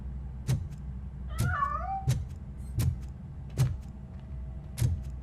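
A cat in the video game RoboCop Rogue City meows once in a drawn-out, wavering call, set among a series of sharp, regularly spaced clicks or thumps against a quiet background.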